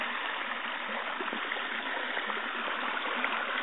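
A river streams and rushes steadily along a hiking trail, a continuous close, even flow of water with no voices, filling the short stretch uniformly.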